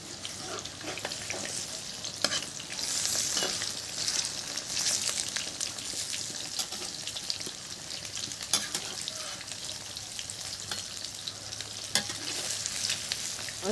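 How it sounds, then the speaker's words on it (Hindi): Jackfruit fritters frying in refined oil, a steady, close sizzle and crackle that keeps going throughout, with occasional soft stirring clicks and no talking over it. "तो हमने एक एक करके कटहल की भजिया सभी तेलों में रख दिए"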